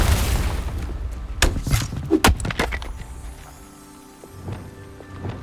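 Spell blasts and impacts from combat in Hogwarts Legacy burst in a quick cluster of sharp booms and thuds during the first few seconds, then fade to a quieter ambient stretch with a few soft hits.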